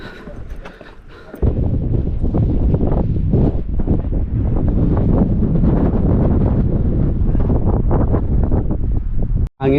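Strong wind buffets the microphone outdoors at rocky Punta Galera, a loud continuous roaring rumble that starts abruptly after a short calmer moment and stays heavy throughout.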